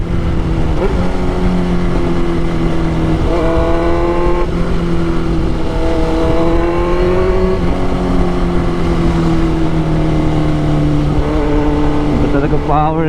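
A Suzuki GSX-R 1000 sports motorcycle engine revs loudly and close by, in repeated rising and falling throttle blips over a steady idle, with a person speaking over part of it.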